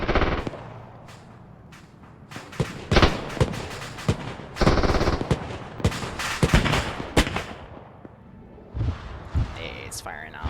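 Tank and machine gun fire in a Zeus Ops battle in Arma 3: rapid bursts and heavy single shots, some near and loud, others more distant, spread irregularly across the scene, with voices talking in places.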